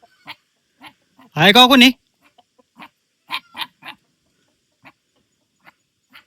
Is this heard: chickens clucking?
yes